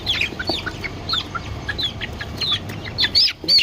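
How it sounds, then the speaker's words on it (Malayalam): Native country chickens at a roadside poultry market cluck and squawk repeatedly, several birds calling close by over a busy outdoor background. "നാടൻ കോഴിയാണ് നാടൻ കോഴി"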